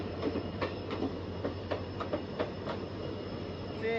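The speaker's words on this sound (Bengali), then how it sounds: "চলে আসলো আমাদের ট্রেন" The Kanchanjungha Express pulls into a crowded station platform in Assam, wheels clicking rhythmically over rail joints beneath a low rumble, with a faint squeal near the end.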